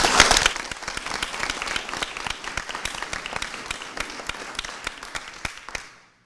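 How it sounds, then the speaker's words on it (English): Applause for substitute teachers at a board of education meeting: a small crowd claps with separate, distinct hand claps, loudest at the start, then tapering off and fading out over about six seconds. "So a round of applause for our substitutes."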